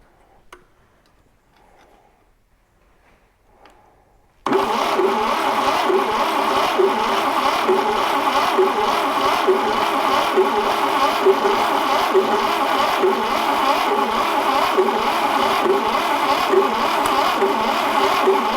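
A 1968 Fiat 500 engine, not started in 40 years, cranks over with quiet ticking before abruptly firing into a loud, steady running beat that continues to the end.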